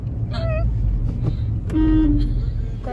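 A car horn toots in short honks, then one longer blast, close by over an idling engine and road noise.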